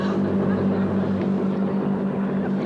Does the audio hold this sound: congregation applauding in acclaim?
no